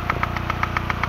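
Water pump engine running steadily at close range, with a regular rhythmic knocking pulse over a continuous mid-pitched drone and no talk.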